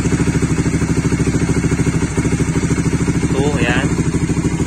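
A Suzuki Raider motorcycle fitted with an MVR1 racing ECU and an aftermarket muffler throbs close by in a steady, rapid pulsing idle, with a brief blip of throttle partway through.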